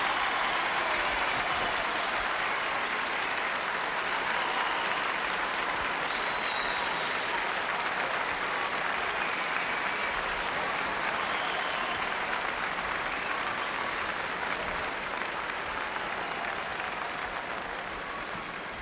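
A large audience at the 1970 Miss World pageant gives steady, sustained applause, a dense wash of clapping that holds evenly throughout at moderate volume.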